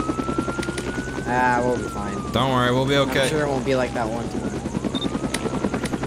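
A helicopter in the Roblox video game drones with a steady rotor and engine whir while several people talk over it.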